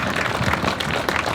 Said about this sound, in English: If you give him a round of applause